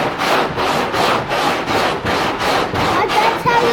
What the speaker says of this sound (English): We gotta keep sanding and sanding.